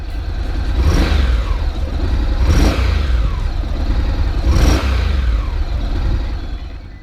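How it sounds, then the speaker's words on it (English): A 2015 Honda CTX700 DCT motorcycle engine is revved three times from idle, each throttle blip swelling into a rising, throaty roar before dropping back to a steady low rumble, close and loud. "Let's see what the engine sounds like when you rev it."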